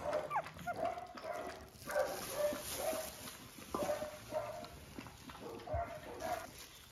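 Several hungry newborn stray puppies whimper and yip in thin, high, repeated cries, close and overlapping throughout, with faint background noise.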